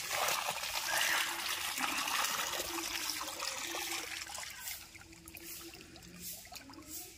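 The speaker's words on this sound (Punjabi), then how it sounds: "ਪਾਣੀ ਆਪਾਂ ਹੁਣ ਛੱਡਤਾ" Irrigation water runs from a motor pump onto a farm plot, a steady trickling and splashing flow with faint dribbles, fairly quiet and alone.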